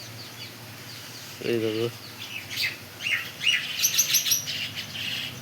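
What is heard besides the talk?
small white birds chirping and fighting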